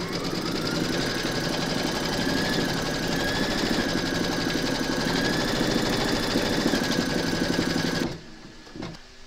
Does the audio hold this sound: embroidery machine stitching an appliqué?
yes